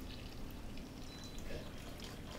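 Water from every fixture in an older Jackson house runs through its partly replaced household pipes during a plumbing test, a faint, steady, low flowing hiss with no breaks.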